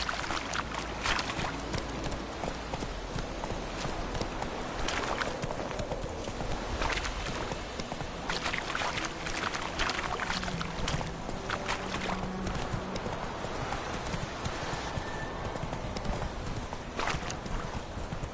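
Horse hooves clip-clopping at a steady walking rhythm in The Witcher video game, a continuous close run of hoofbeats over outdoor ambience and creaking tack, with no talk.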